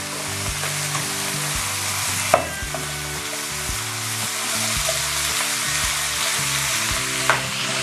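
Pork and lotus stems stir-fry in a pan, a loud steady sizzle with rhythmic scraping stir strokes and a couple of sharper knocks against the pan, no voices.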